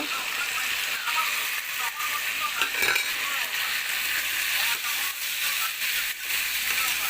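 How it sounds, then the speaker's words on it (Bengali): Soaked rice and vegetables with green chilli sizzle steadily in a hot pan while being stirred for masala khichuri, a continuous bright frying hiss with occasional scrapes of the spoon. "দিয়ে রাখা চালটা সবজির ভিতর দিয়ে ভালো করে কষিয়ে নেব।"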